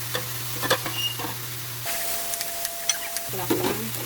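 Bottle gourd (upo) sautés in a pan, giving a close, steady sizzle under a low hum, with light taps and scrapes of stirring scattered throughout.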